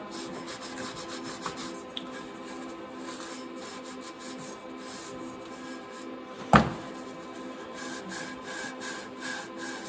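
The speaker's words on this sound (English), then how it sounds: "I'll give her one last wipe down with this dry rag" Dry rag wiping down a freshly painted muffler, a soft, continuous rubbing close by, with one sharp knock partway through.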